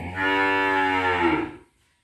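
A Brangus cow on a farm gives one long, loud, close moo that holds steady and then fades out, followed by quiet.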